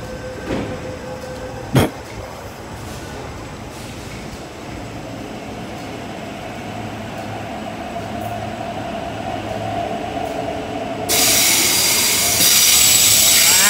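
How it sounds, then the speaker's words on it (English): A train passing nearby, a steady rumble of rolling wagons with a brief sharp clank early on, growing louder toward the end. "Just filming the train."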